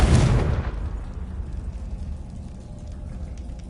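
A Confringo fire spell blasts in the Hogwarts Legacy video game: one sharp, loud explosive burst at the start, then a long rumbling decay that fades to a low wash.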